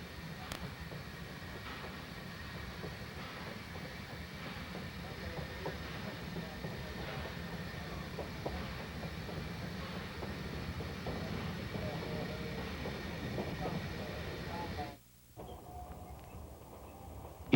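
An ET&WNC Tweetsie train backs slowly through Elk Park, a faint, steady rolling rumble with light rhythmic clicks. The sound cuts off abruptly near the end.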